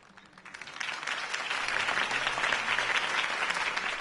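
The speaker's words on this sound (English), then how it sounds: "could have heard that applause" A crowd in the video game Batman: The Telltale Series bursts into sustained applause, rising quickly and holding steady as a dense wash of clapping with no voices over it.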